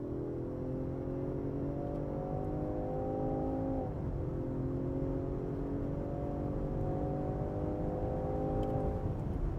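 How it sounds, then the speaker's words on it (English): A 2023 Range Rover Sport luxury SUV with its smaller engine accelerates, heard from inside the cabin as a steady engine drone that rises in pitch twice, with a brief dip as it shifts. "this thing can easily get up to quite fast speeds, even with the smaller engine"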